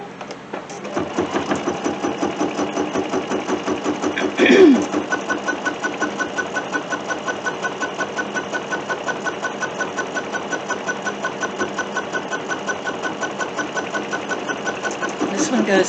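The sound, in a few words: machine stitching down fabric bunting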